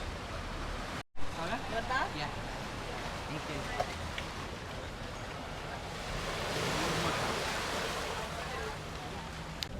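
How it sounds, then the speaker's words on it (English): Ocean waves wash in a steady, airy roar in St. Lucia, swelling gently toward the end, with faint wind buffeting and a brief dropout early on. "just the sound of the waves."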